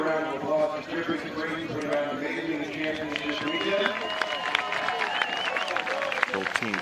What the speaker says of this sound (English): Please give a round of applause for Dripping Springs for an amazing championship weekend.